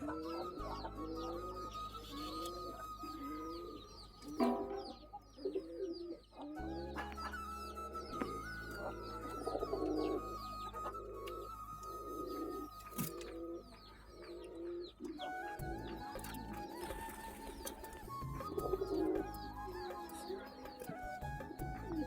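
Pigeons coo repeatedly while feeding, with soft overlapping calls close by and some clucking fowl mixed in at moderate level throughout.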